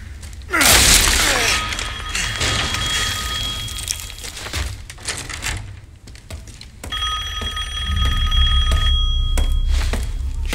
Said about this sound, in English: That is a phone call.